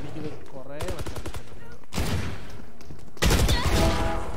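Rapid gunfire bursts from Valorant weapons such as the Vandal and Phantom, three loud rattling volleys separated by short gaps, the last one heaviest, with no talk over them.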